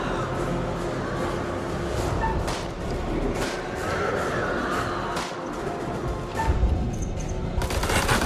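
Gunfire in the GTA San Andreas video game comes as a string of rapid, sharp shots over a dense, busy game background, and the bursts get louder toward the end.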